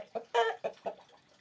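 A rooster clucks several times in short, sharp bursts close by, one louder squawk near the start, then quieter clucks trailing off.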